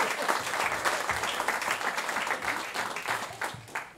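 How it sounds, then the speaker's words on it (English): An audience applauds at a This Is Your Life tribute event: steady, dense clapping that holds close and even for about four seconds, with no talking over it. "Round of applause, everybody, for Mark."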